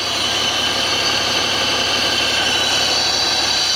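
A Honda outboard boat motor idles steadily with a constant droning hum and vibration, unchanging throughout, with no voices.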